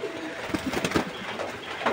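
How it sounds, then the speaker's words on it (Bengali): Pigeons in a cage coo in a few short, soft, throaty calls close by, with no voices. "আমাদের পায়রাগুলো সব কেমন আছে এই দেখো"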